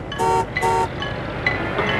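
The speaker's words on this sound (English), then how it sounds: "Will you stop honking, Mac?" Car horns honk in a stalled traffic jam: two sustained blasts near the start, then shorter, softer toots later over a steady rumble of idling engines.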